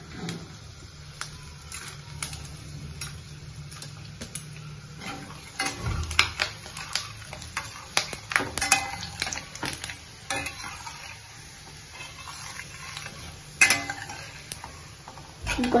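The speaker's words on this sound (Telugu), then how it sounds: "ఆవాలు చిటపటలాడాయి" Mustard seeds and dals (urad and chana dal) splutter in hot oil during tempering, a steady crackling sizzle broken by sharp pops and occasional clinks of a spoon against the pan, with no talk.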